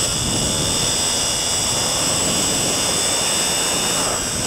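Onboard a race car accelerating out of a right-hand corner at the Magny-Cours circuit, a loud, steady engine roar with a high whine fills every moment, close and unbroken.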